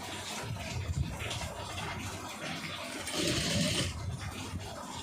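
A sewing machine stitches piping onto cloth in a steady mechanical whirr with fine rapid needle ticking, swelling briefly louder partway through, with no talking.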